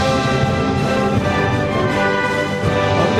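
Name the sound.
Taiwan national banner song anthem recording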